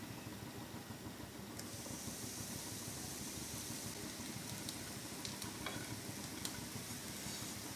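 Slices of bread frying in about a tablespoon of white oil in a pan make a steady, dense sizzle with faint stirring clicks, close and continuous throughout, with no talking.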